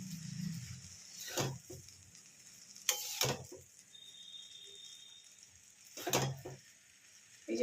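Chowmein is stirred in a frying pan under a faint sizzle, with several sharp scraping strokes of the utensil against the pan spaced through the quiet stretch.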